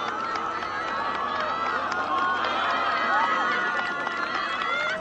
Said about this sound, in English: Listen to the crowd willing it down that hill.